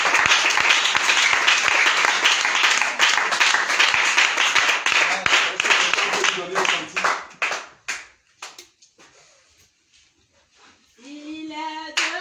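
A church congregation at a worship service claps and applauds in praise of Jesus, a loud dense burst that thins into scattered claps and fades out, followed by voices singing.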